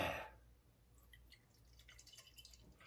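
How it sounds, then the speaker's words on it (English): Stout beer pours from a freshly opened can in a quiet, liquid trickle and drip, louder at the very start and then soft and steady, with no talking. "Let us crack this one open and see how it pours."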